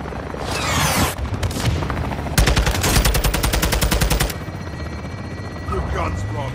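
Gunfire and explosions in Call of Duty Modern Warfare 2 during a pre-assault barrage, loud and close: sharp blasts, then about two seconds of rapid rhythmic machine-gun fire over a heavy rumble, ending in a quieter tail.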